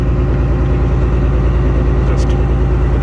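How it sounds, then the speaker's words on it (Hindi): A boat engine runs before boarding a ship at sea, giving a steady, loud, low droning hum that fills the clip without a break. "सो शिप के इंजन में बोट के इंजन ऑन हो गया है"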